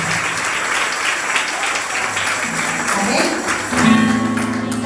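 Church congregation at a women's gathering clapping hands steadily throughout, a dense sustained patter over music and a faint voice, growing slightly louder near the end.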